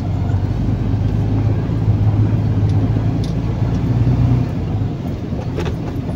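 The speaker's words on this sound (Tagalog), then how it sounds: "Baha dito ay lumusob ng mga motor." Motorcycles riding through shallow floodwater on a bridge road in San Simon, Pampanga, during Typhoon Dante: a steady, loud rumble of engines and churning water, continuous throughout with little change.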